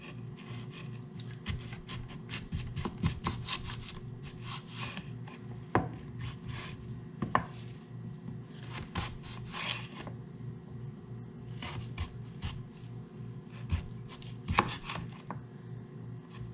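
A blunt kitchen knife slices a sweet potato into fry-shaped sticks, giving repeated soft chopping thuds and scraping cuts on a board, moderately close, with irregular spacing and no talk.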